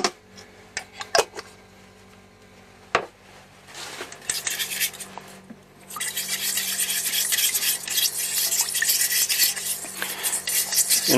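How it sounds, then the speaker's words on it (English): Whisking shrimp salad dressing in a bowl: a few scattered clinks and taps at first, then a fast, steady scraping whir that continues to the end without talk. "We'll whisk that together."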